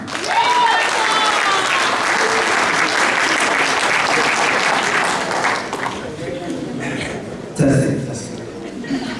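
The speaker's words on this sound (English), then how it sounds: "Please give a round of applause to" An audience claps for a speaker at a College of San Mateo program event, a loud sustained round of applause that fills the room and slowly tapers, with a few chuckles and a brief louder burst near the end.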